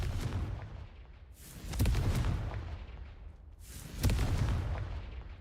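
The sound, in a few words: Confringo fire blast spell in video game Hogwarts Legacy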